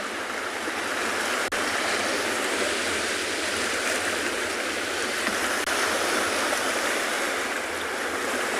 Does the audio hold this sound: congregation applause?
no